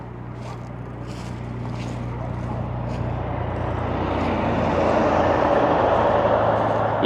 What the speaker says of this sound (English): sorry about the vehicles